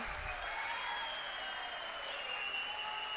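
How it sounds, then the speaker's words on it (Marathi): Audience at a Maha Vikas Aghadi political rally breaks into sustained applause, dense continuous clapping from a large crowd that stays steady throughout. "टाळ्या वाजत राहिल्या पाहिजेत"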